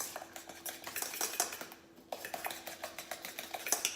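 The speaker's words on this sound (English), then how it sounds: "So just gonna mix that egg in there." Rapid irregular clinking of a utensil against a bowl as egg is mixed into banana pancake batter, with a brief pause midway before the scraping clatter resumes, close up.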